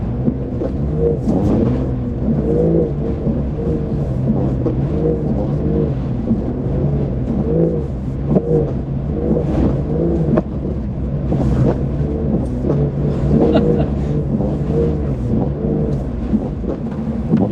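A 2024 Porsche 911 Dakar engine rumbles and revs while driving, a loud, continuous low drone with rising and falling pitch heard from inside the car.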